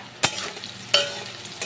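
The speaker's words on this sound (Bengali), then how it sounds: "আমি এবার উচ্ছেগুলো ভালো করে ভাজা করে নেব" Bitter gourd frying in a pan with salt and turmeric, a soft sizzle under three sharp stirring scrapes spaced evenly, close and alone.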